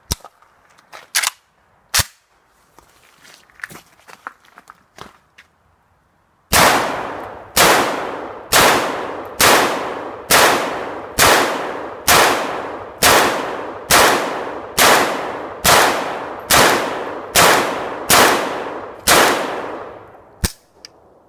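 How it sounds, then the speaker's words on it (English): A WASR-10 rifle fires about a dozen sharp, loud shots at a steady pace of roughly one per second, each ringing briefly, after a few scattered clicks and handling knocks in a quieter stretch. "We're going to fire it for you"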